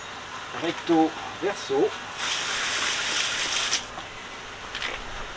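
Water gushes steadily for about two seconds while a very dirty wheel rim is rinsed, preceded by brief speech and followed by quieter handling sounds.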